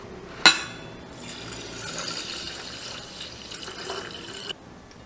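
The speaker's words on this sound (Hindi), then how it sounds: "नींबू का रस एक गिलास की सहायता से हम डाल सकते हैं इस तरह से।" Lemon juice poured from a glass into a container for storing lemon water, a soft continuous trickling and filling sound lasting several seconds after a sharp clink, fairly close and quiet with no talking.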